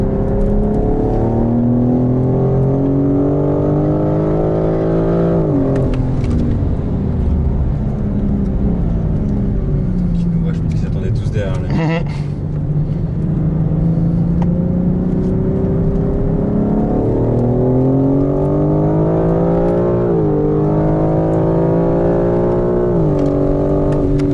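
A BMW M4 CSL howls around a race track at Le Mans, its engine climbing through the gears in repeated rising sweeps with brief dips at shifts, loud and close throughout with no talk over it.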